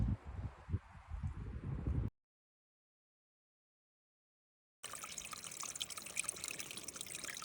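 Mountain water trickles and splashes steadily outdoors in Alaska, broken by a stretch of silence before the flowing returns with a brighter, hissing rush.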